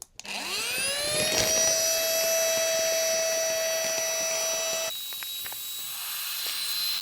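An electric pump whines as it sucks air out of a vacuum storage bag, rising in pitch at the start and then holding a steady, loud hiss before the tone shifts and drops near the end.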